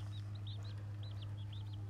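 Baby chicks peeping under a radiant heat brooder panel, a run of short high cheeps in quick succession over a steady low electrical hum.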